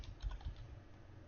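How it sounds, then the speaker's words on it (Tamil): Quiet typing on a computer keyboard produces a few soft, quick key clicks close by, with no voice over them. "அப்போ டைப் பண்ணியிருக்கேன், பக்கத்தில் பிடிஎஃப்னு டைப் பண்ணியிருக்கேன்"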